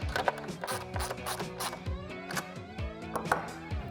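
Rapid ratchet clicking from a 10mm socket wrench tightening a nut on a hood scoop for a 2018-2020 Ford Mustang, in repeated quick bursts of clicks with short pauses, close and fairly quiet.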